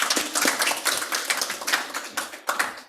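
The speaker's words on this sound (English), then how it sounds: "We can give her a round of applause," Audience applause for a student speaker at a school district panel discussion, a dense patter of many hands clapping together, fairly loud and steady before tapering slightly.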